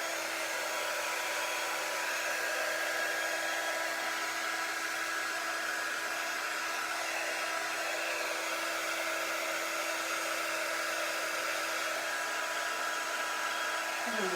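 A heat tool blows steadily to warm wax on a chalk-painted craft piece, a loud continuous airy whir with a constant hum that holds unchanged throughout, close up with no talking.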